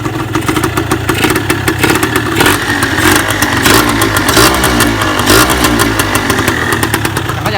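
A Honda LS125 motorcycle engine runs close and loud, idling with a clattery mechanical beat and revving up in repeated throttle blips.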